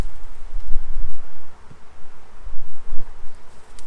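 Honey bees buzz at a hive in an apiary, a steady low drone of many insects with some rustling, continuous and fairly close throughout.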